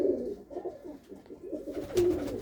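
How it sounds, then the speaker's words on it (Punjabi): Female pigeons, blue-coloured birds in a loft, coo in soft rolling phrases, several overlapping calls close by with a brief brighter flutter near the end. "ਇਹ ਕਬੂਤਰੀਆਂ ਆ ਜਿਹੜੀਆਂ ਇੱਧਰ"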